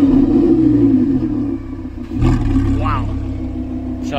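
A Lamborghini Huracan engine growls in a loud, steady rumble that swells slightly partway through, with a voice talking over it.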